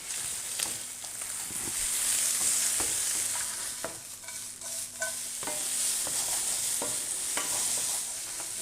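Smoked pancetta sizzles and crackles in a hot frying pan, a steady close hiss with occasional stirring scrapes and clinks throughout.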